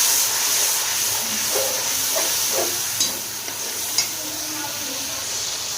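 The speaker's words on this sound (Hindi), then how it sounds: "थोड़ा सा पानी डालेंगे।" Water poured into a pot of frying vegetable pilaf sets off a steady loud sizzle and hiss of steam, with faint stirring knocks and a couple of brief clinks.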